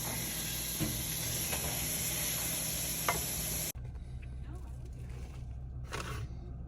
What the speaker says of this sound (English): Stir that meat.